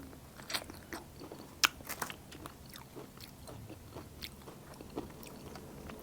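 Someone bites into and chews a ripe, chilled wild forest fruit that is still somewhat firm, with close, quiet crunchy bites and chewing, the sharpest bites near the start and a few more later, no speech.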